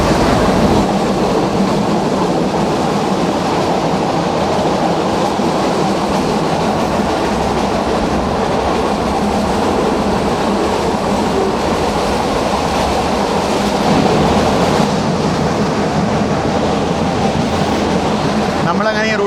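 A meter gauge passenger train runs through Gir Forest on the Junagadh to Veraval line, giving a steady, loud, continuous rumble of wheels and rail with a faint clatter that holds without a break.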